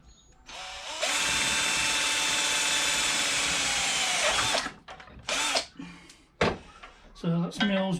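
Power drill boring holes through a metal plate clamped on a Toyota Celica, a loud steady whine for several seconds that cuts off, followed by short clunks and clatter with voices speaking nearby.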